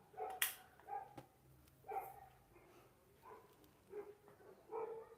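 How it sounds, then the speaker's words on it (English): A dog barks in short, spaced yips, about six of them over several seconds. It sounds moderately distant and faint against quiet background noise near a shelter during a Pokhara thunderstorm. "I hear a dog."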